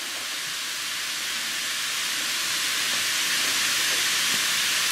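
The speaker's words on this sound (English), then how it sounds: "I can't believe how much it's still fizzing." An LOL Surprise Bubbly Surprise limited edition bath fizzy fizzes steadily in water, a close, continuous bright hiss that holds level and grows slightly louder, with no voices.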